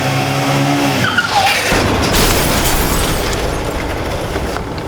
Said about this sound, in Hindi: पहले मैंने एक्सीडेंट की आवाज सुनी